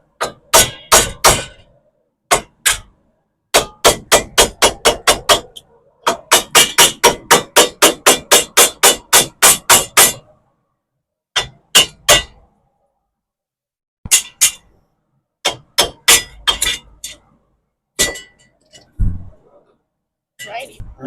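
Repeated sharp metallic hammer strikes on the front wheel hub of a 2008 Nissan Sentra during wheel bearing replacement, in bursts of rapid blows separated by pauses, loud and close, ringing with a clanging edge.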